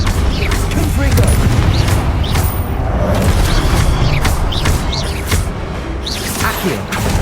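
Blasting Confringo spell in Hogwarts Legacy combat, loud booming bursts and crackling impacts repeating over a dense rumbling game soundscape, with some voice mixed in.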